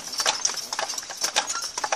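Two heavy carriage horses on Mackinac Island, together well over 10,000 pounds, clip-clop along at a steady trot, their hooves a brisk, fairly close rhythm of distinct sharp knocks without talk.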